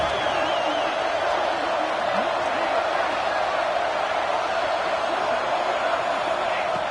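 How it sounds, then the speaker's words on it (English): A football stadium crowd roars in a steady, dense wall of noise, loud and sustained throughout as fans try to rally the defense near the red zone, with a commentator's voice faintly mixed in. "And here comes the noise. This crowd is trying to inspire this defense to make a big red zone stop."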